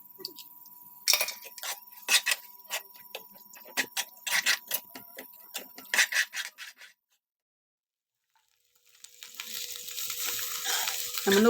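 Egg goes into a pan of sautéed drumstick leaves, with a run of quick scraping and tapping stirs, then a pause of near silence before a rising sizzle takes over.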